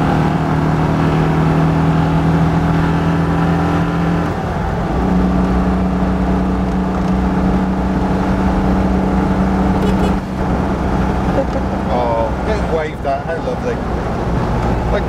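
A Citroën 2CV driving along on a country road, its small engine giving a steady, droning hum with wind and road noise throughout, unbroken for the whole stretch.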